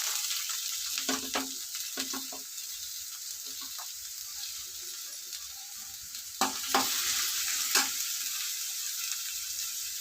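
Onions frying in a pan for a raw prawn gravy curry, a steady hiss with a few louder bursts of stirring and scraping, no talk.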